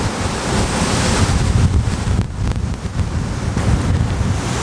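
Strong wind roars outdoors in the Verdon gorge area, buffeting the microphone with a constant loud rumble and hiss that surges and dips briefly, with no voices.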